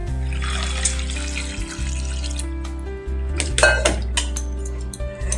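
Water running and splashing into a pot of washed taro and potatoes, with clinks of metal cookware and utensils throughout and a louder splashing burst partway through.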